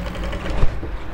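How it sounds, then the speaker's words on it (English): A sewing machine top stitching fabric runs in a brief, close mechanical whir with a soft rhythmic clatter and a slight thump near the middle. "Then you start top stitching from here"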